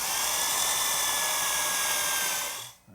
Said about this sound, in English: I'm going to drill a 1/4 inch hole about 1/2 inch deep